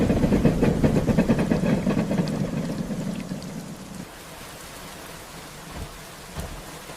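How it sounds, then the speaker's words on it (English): Soft rain falls steadily as a dense hiss, heavier at first and then easing to a quieter, thinner patter with a few scattered drops. "Rain continued falling softly outside the glowing studio."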